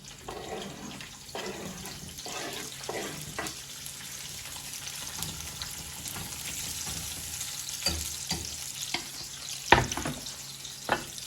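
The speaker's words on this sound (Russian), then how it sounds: "лук будем как бы жарить." Steady crackling sizzle of diced onion frying in a pan, with occasional sharper pops and clinks, continuous throughout with no talking.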